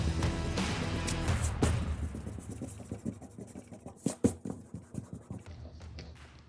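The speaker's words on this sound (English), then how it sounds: "So now take your eraser and erase." A pencil eraser rubs back and forth on drawing paper in quick, close, scratchy strokes. The strokes start dense and continuous, then become more separate and rhythmic.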